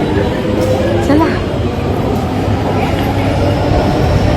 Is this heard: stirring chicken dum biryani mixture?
no